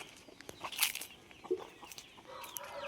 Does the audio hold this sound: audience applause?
no